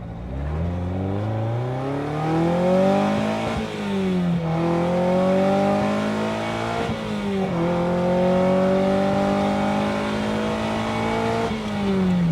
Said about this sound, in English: Let's just do another bit through the gears